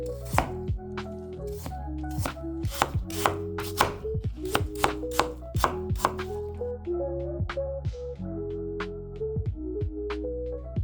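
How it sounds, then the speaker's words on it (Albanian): Peeled apples chopped into small pieces with a knife on a board for apple baklava filling, heard as a fast, irregular run of sharp, close knocks that continues throughout with no voices. "Mbasi kemi pastruar mollat, do t'i presim në copat e vogla."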